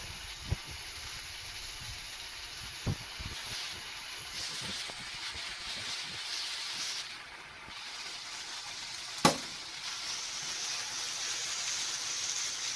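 Noodles and carrots fry in a wok, a steady soft sizzle and hiss running throughout with a few faint clicks of utensils and one sharper knock.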